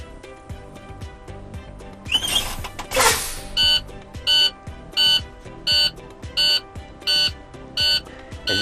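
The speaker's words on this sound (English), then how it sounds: "As you can see, our alarm turned on and our light." Truck low air pressure warning alarm during a pre-trip check, a loud beep repeating at a steady rhythm after some clicking and a brief hiss, with no talking.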